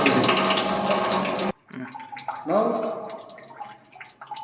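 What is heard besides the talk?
excess water spilling over a weir notch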